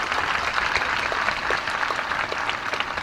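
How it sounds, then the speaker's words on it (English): Applause from the audience at a Class of 2020 graduation ceremony, a continuous, even wash of clapping from a large crowd, moderately loud and unbroken throughout the short stretch. "Let's give her a round of applause."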